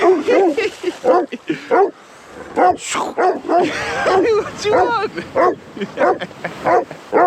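A dog barks repeatedly up close, loud, rhythmic woofs with a few whiny yips, while someone talks between the barks.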